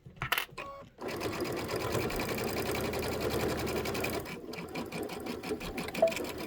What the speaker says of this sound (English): if it looks good, then I'll sew the whole way across